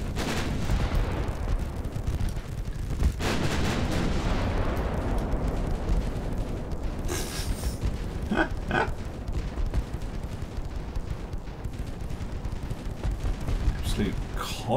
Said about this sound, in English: Absolute constant barrage of fire.